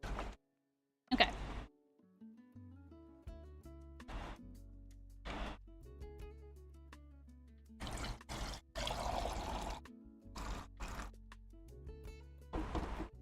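Aquarium water poured onto houseplants, with several separate splashing, trickling bursts of liquid up close, broken by brief quiet pauses.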